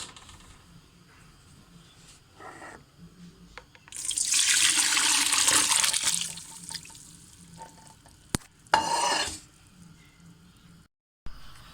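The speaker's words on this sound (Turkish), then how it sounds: "Karıştırıp tekrardan süzüyorum." Water gurgles and rushes for a couple of seconds as boiled homemade egg noodles are drained, followed by quieter stirring clinks and a second brief splash of cold water poured over them.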